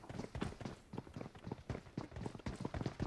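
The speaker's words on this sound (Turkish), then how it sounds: "Ayak sesi. Yakın." Quick footsteps close by in the video game PUBG Mobile, a steady run of heavy thuds pattering in an even rhythm over a dull background.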